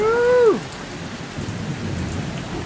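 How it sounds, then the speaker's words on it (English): Late summer thunderstorm in Kenmore, Washington: steady rain hiss with a low rolling rumble of thunder, opening with a short loud rising-and-falling tone before the storm noise settles in. "Just an angry late summer storm."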